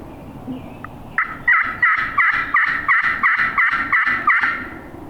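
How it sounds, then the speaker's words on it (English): A wild turkey gobbles close by in a rapid series of about eight throaty, rattling pulses. "He's gobbling to that crow."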